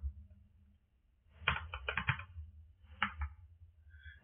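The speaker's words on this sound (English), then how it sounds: "now if I type prop" Short bursts of typing on a computer keyboard, a few quick clicky keystrokes, then a pause and a couple more taps, close up and fairly quiet.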